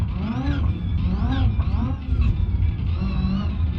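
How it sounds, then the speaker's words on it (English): Straight-cut race gears whining in a car in BeamNG.drive, a rising and falling gear whine over a rumbling engine as the car accelerates, close and fairly loud, with a voice talking over it. "Hear the straight cut race gears in it whining like crazy"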